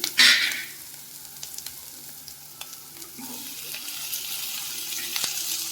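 Chopped tomatoes hit a hot pan of onion, garlic and ginger with a sharp opening hiss, then settle into a low, steady sizzle with faint stirring clicks that builds slightly toward the end.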